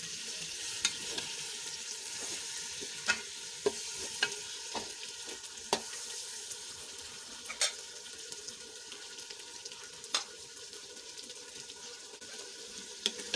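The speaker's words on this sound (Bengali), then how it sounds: "এইভাবে নাড়াচাড়া করে মাছের মাথাটা কষে নেব" A fish head is stirred and fried in spice paste with a little water in a cooking pot. A steady close sizzle runs throughout, broken by repeated sharp scraping clacks of the spoon against the pot. No one talks.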